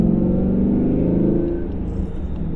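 A steady, deep engine drone with a throaty V8 rumble from a 2012–2013 Ford Mustang Boss 302 holds at a constant level, easing slightly toward the end.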